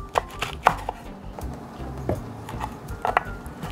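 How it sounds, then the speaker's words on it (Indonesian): A knife roughly chops chili peppers on a cutting board in irregular sharp taps, close up, with quiet pauses between bursts. "Cabai potongnya kasar aja gak apa-apa"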